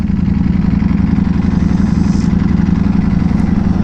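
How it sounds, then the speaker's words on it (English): A Ducati Panigale V4S motorcycle engine rumbles loudly and close beneath a bridge, a deep throbbing idle with a rough steady pulse that swells briefly in a short rev before settling, with no voices. "Gotta give it that under bridge rev"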